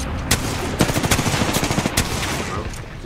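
Gunfire in an Apex Legends match, with a rapid burst of sharp shots and several louder cracks in an uneven rhythm, set against a steady layer of game noise.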